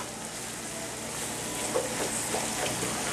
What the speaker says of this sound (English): I'm going to continue just to stir this.